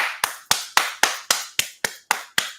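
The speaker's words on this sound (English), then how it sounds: "Round of applause, brother." Crisp hand claps, about nine sharp separate strikes at a steady, brisk rhythm, close and loud, with no talk between them.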